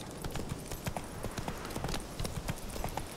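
Galloping horse hooves in The Witcher 3: Wild Hunt, a rapid, even clip-clop rhythm close by throughout the short stretch.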